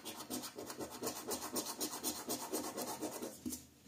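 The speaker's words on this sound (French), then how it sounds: "Allez, je vous mets dans le grattage. Je vous mets au cœur du ticket." An FDJ lottery scratch card ticket is scratched with quick, rhythmic rasping strokes, about three per second, close and steady for nearly four seconds, with no talk.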